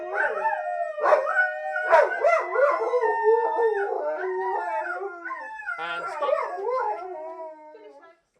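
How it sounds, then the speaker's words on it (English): Two dogs, Loki and Ollie, howl together in long wavering, overlapping cries with rising and falling pitch, close and loud, tapering off near the end. "Ollie just howls because he's just joining in."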